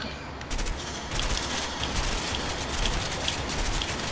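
Shotgun blasts in the video game A Way Out, a dense crackling barrage of rapid shots over a steady noisy bed, loud and close, with no talk.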